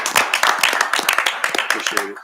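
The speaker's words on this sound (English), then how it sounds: "Hey, clap it up for 'em." Audience at a city council meeting clapping in a brisk, uneven burst, mixed with cheering voices and chatter throughout.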